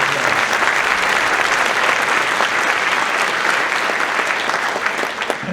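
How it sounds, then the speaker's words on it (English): Steady, dense applause from a large audience at a high school winter concert fills the room, continuing evenly throughout with no speech over it. "Please give them a round of applause."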